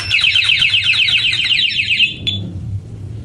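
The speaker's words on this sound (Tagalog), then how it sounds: "i-inform kayo ng alarm system natin na may gumagalaw na motor nyo" A motorcycle anti-theft alarm on a Yamaha Raider fuel-injected bike blares loud and close, a rapid warbling electronic siren pulsing for about two seconds before cutting off into low background rumble.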